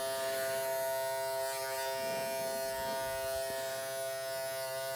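Electric hair clippers buzz steadily and close with a bright, whining hum while cutting a child's hair, with faint crunching as the blades move through the hair; no speech.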